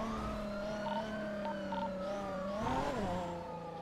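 Several police car sirens wail continuously in the GTA video game, their rising and falling tones layered over a steady engine drone, loud and close throughout.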